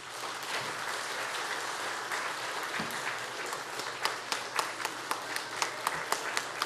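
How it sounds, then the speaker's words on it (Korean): A church congregation applauding steadily to welcome a pastor, dense and sustained, with a few sharper individual claps standing out near the end. "큰 박수를 치며 우리 목사님 영접하겠습니다"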